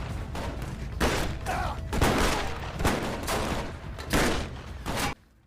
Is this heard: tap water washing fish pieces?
no